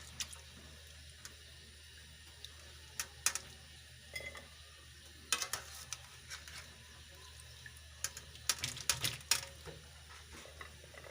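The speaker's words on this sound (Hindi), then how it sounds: "अब हम पानी से निकाल लेंगे।" Potato pieces for french fries are lifted out of soaking water in a home kitchen, with quiet sloshes, drips and clinks of a bowl or utensil in irregular bursts over low background hum.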